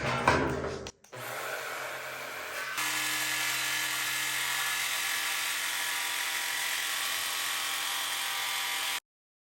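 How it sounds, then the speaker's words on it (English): A barrel-grip jigsaw cuts through metal with a steady, close, buzzing rasp that runs for several seconds and then stops abruptly, preceded by brief clattering handling noise. "Got this jigsaw from my friend Ty."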